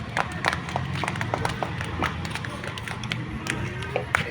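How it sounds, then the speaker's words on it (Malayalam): Children clapping together during a group game, a busy patter of scattered hand claps and taps mixed with background crowd noise, with no clear speech. "ക്ലാപ്പ് ചെയ്യും മക്കളെ"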